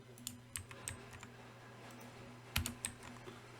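Typing on a computer keyboard, scattered quick clicks in short bursts with a sharper cluster of keystrokes near the end, close and quiet.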